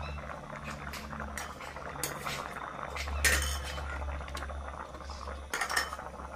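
Thai green curry with pork and eggplant bubbles at a quiet, steady simmer in a pot, with brief clinks of a utensil against the pan.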